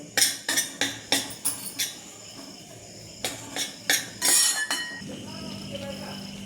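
A spoon stirs besan roasting in ghee in a pan over a low flame. Sharp metallic clinks and scrapes come in quick bursts, followed by a quieter stretch, and a faint voice can be heard in the background.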